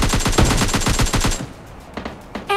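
Rapid automatic gunfire in PUBG Mobile Lite, a loud, close burst of evenly spaced shots lasting over a second, then a pause and a few scattered single shots.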